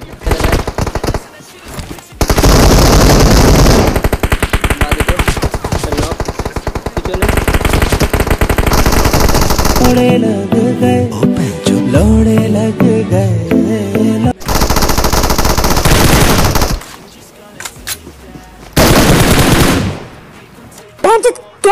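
Rapid automatic gunfire in the battle royale game PUBG Mobile rattles in long, loud bursts separated by short quiet gaps, with a player talking over parts of it.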